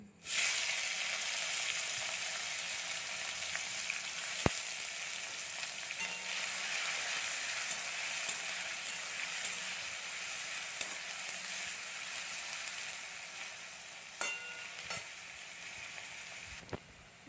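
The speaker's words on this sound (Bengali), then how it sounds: "এবার আমরা এর মধ্যে দিয়ে দেবো পেঁয়াজ কুচি" Chopped onion sizzles steadily in hot oil tempered with black cumin seeds while cooking a small-fish chorchori, a continuous close frying hiss with faint stirring clicks and no voices.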